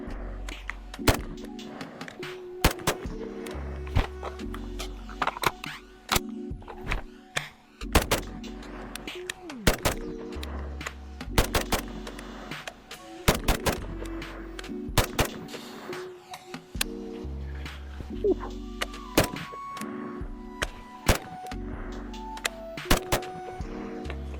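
A SIG Spear .308 rifle fires a string of sharp, loud shots, about ten or more, spaced every second or two, while voices talk between the reports.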